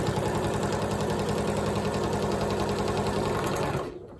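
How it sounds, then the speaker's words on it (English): A sewing machine stitches the sides of a glitter vinyl zipper case with poly blend thread, giving a fast, even mechanical chatter up close that runs continuously and then stops abruptly near the end. "Now I'm going to sew up the sides."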